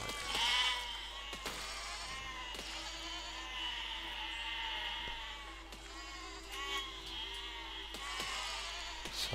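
Sheep bleat repeatedly in the video game Besiege, with several overlapping calls over a steady game backdrop and a louder bleat near the start.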